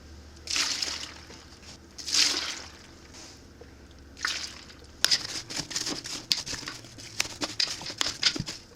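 Water poured into a pot of cut fresh apples for homemade applesauce: a few short splashy bursts, then a denser, steady stream of pouring and sloshing that continues to the end, close and moderately loud.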